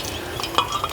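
Garlic cooking in three spoonfuls of hot oil while being stirred, a soft continuous sizzle with a few light scrapes and clinks of a spoon against the pan, close by.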